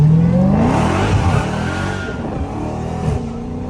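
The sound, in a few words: Dodge Hellcat SRT with straight pipes revving, accelerating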